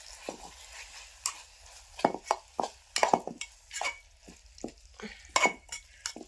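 Brinjal bharta is mixed in a pan with a spoon, giving irregular scraping and knocking strokes, some sharp and loud, others soft, with quiet gaps between them.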